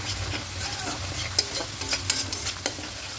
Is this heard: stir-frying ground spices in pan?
yes